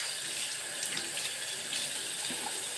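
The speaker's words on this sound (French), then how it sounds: "on va laver le visage moi avec de l'eau chaude" Warm water runs steadily from a tap into a sink for washing the face, a continuous close splashing hiss with no voices.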